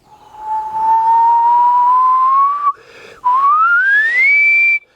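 A voice imitates a kettle whistle, a steady tone slowly climbing in pitch, briefly breaking off, then resuming and rising higher before stopping.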